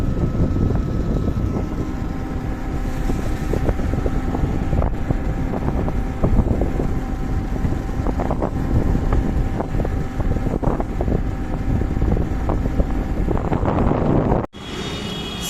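An Ola S1X 4 kWh electric scooter cruises on a highway in eco mode with cruise control on. A steady, loud wind roar buffets the microphone throughout, then drops abruptly near the end.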